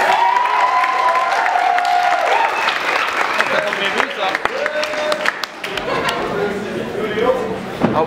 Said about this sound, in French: On les applaudit tout le monde.